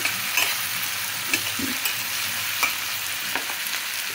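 Tomatoes sizzling with eggplant in a pan for a large-brinjal burji, a continuous frying hiss with occasional clinks and scrapes of a stirring spoon, close and fairly loud, with no voices.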